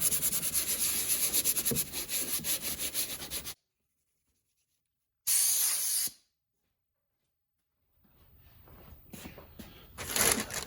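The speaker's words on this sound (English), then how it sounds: "Light sanding, knock all the little burrs off." Steady scratchy rubbing of sandpaper on wood, close up, stopping for a silent gap, a brief burst, then softer intermittent scraping returning toward the end.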